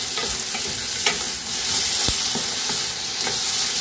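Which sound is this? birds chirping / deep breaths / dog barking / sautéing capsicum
sautéing capsicum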